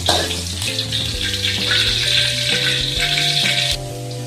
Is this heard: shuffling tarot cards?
no